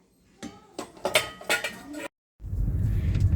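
Clean steel dishes and utensils from a hot dishwashing machine clink and clatter in several sharp bursts, then a brief silence gives way to a low rushing noise.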